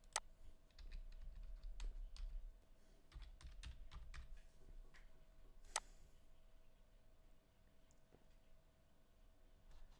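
Rapid bursts of clicks from a computer keyboard as a username and password are typed, close and fairly quiet over a faint hum, with pauses between runs and one sharper key tap.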